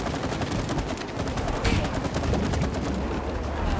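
Rapid continuous gunfire from the co-op video game It Takes Two, a dense rattling stream of shots under faint talk.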